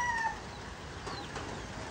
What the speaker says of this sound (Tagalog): Ayun yung ating mga alagang manok